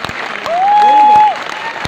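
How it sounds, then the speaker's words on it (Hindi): Audience applause rings out at a stage celebration, close and steady, with a bright sustained whistle rising over the clapping midway. "जोरदार ताली बजा दो यार।"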